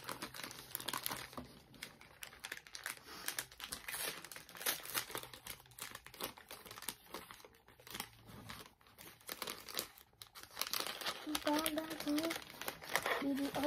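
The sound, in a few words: unwrapping packaging of mailed parcels, crinkling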